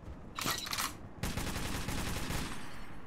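Bursts of gunfire in Metro 2033 Redux, a short rapid volley followed after a brief pause by a longer sustained automatic burst, loud and close, with no talking.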